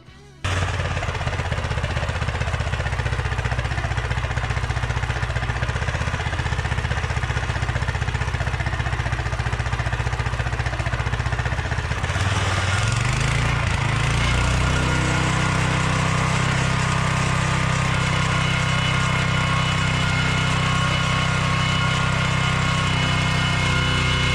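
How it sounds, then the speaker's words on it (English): A Coleman 196 minibike engine runs steadily through its exhaust, a loud, continuous buzzing drone that shifts to a higher, smoother pitch about halfway through as the revs change, with no voices. "Coleman 196 exhaust."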